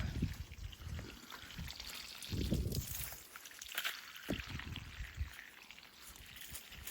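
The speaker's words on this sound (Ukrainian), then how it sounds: "то вирішила їх полити" A garden hose pours and splashes water onto hydrangea bushes in a hot summer garden, a steady broadband spray with louder bursts as the stream shifts across the leaves and soil, close by, with no talking.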